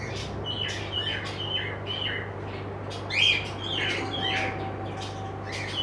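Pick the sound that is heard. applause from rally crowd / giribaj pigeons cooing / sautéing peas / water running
giribaj pigeons cooing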